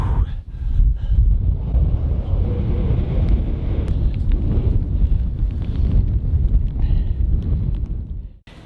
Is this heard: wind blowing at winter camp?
yes